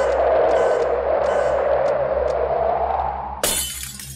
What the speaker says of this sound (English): broken glass anyway.